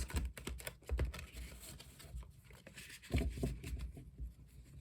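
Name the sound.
tarot cards being shuffled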